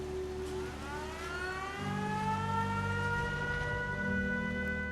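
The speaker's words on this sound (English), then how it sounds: "So if I hit the siren, the door will automatically shut." A settlement civil-defense siren in the video game Fallout 4 wails steadily with a rising, sustained tone and a low mechanical drone underneath, alone and continuous throughout, without speech.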